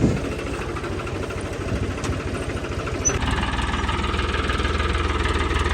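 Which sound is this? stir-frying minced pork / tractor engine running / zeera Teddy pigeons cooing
tractor engine running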